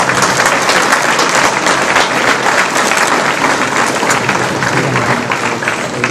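Loud, dense applause from an audience at a skill-training event, sustained evenly throughout as a continuous wash of many hands clapping, with no break.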